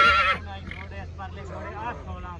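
A mare, brought for breeding, lets out a loud, close whinny at the start before it breaks off, followed by ongoing voices of people talking nearby.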